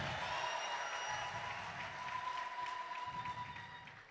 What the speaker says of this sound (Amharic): እስኪ ጭብጨባ አምጡ።